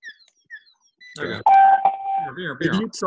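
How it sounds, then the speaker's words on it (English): A BK meter's short circuit alarm sounds as a single steady electronic beep tone lasting under a second, close and clear, with people talking over and around it. "it has a short circuit alarm on this guy, and it sounds like this guy right here"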